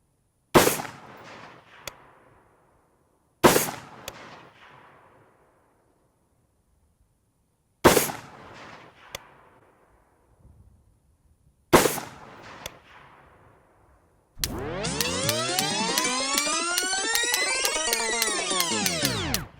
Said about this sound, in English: That's 20 shots right there, John.